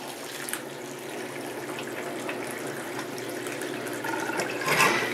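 Wash water gushing and draining steadily from a Panda B45 portable washing machine, a constant rushing flow close by that swells slightly near the end.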